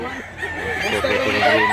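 A white rooster at a Cebu fowl sale makes short, throaty clucking sounds close by, a quick run of low rhythmic calls over a busy outdoor background.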